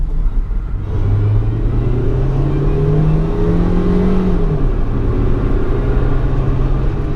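A car in poor shape idles and revs with brake fluid in its gas tank, a steady loud engine rumble with a rising and falling rev swell in the middle before settling back to a constant drone.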